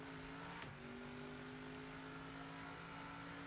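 A kart engine in the video game Table Top Racing hums steadily at a constant pitch, with a brief quieter dip early on. The drone is faint and continuous, and no one speaks.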